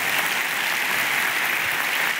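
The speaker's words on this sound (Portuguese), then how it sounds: "E vamos aplaudir a Jesus." A church congregation applauds Jesus during a service: a continuous, full wash of many hands clapping, fairly loud and even throughout, with no talking on top.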